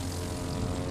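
Propeller airplane in a video game, a loud, close, steady droning buzz of the engine and prop that holds without change through a single brief second.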